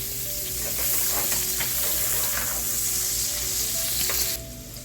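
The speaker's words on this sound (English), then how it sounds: "Add some chopped onions" Chopped onion, about half a medium onion, hitting a hot pan and frying, a steady loud sizzle with some stirring scrapes that drops away abruptly near the end, leaving a low hum.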